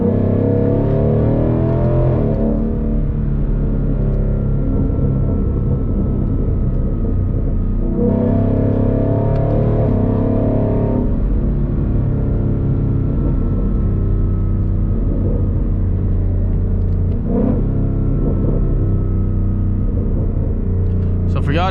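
A 2018 Ford Mustang GT with a Roush axle-back exhaust and X-pipe cruises on the road, its deep engine drone steady throughout with a few swells as it pulls, and a voice talks over the rumble.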